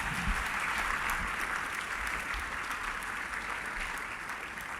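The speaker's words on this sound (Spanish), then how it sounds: "Que le dice aplauso al Señor" Steady applause from a church congregation during a worship service, dense and sustained throughout, fading slightly toward the end with no voices over it.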